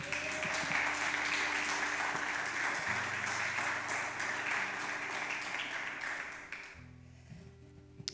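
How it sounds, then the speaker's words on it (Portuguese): Audience in a church service applauding, sustained dense clapping with a low hum of organ or keyboard beneath, fading out toward the end. "Será que você pode aplaudir o Senhor nessa noite?"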